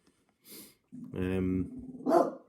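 A dog barks a few times nearby, short sharp barks with a growly edge, and a person speaks briefly between them.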